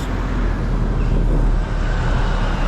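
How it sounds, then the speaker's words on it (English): Loud, rumbling road noise of a large truck passing close by on a street in Prague, a broad roar that swells and fades slightly over a few seconds. "There's a massive truck goes past, so you can't hear me."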